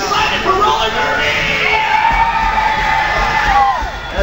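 Indoor roller derby bout crowd, a dense continuous wash of cheering, shouting and yelling voices at steady loud level throughout, with no single voice standing out.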